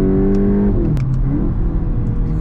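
Car engine of a 2021 VW Mk8 Golf GTI Clubsport with DSG gearbox, heard from inside as a steady mid-pitched drone that drops in tone partway through as it comes off throttle, continuous and fairly loud with no talking.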